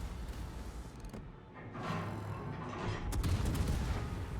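Heavy naval gunfire striking a cruiser, the Prinz Eugen, in World of Warships: a few booming impacts and rumbling blasts with whooshing shells, loud and close, building toward the end over a continuous battle rumble.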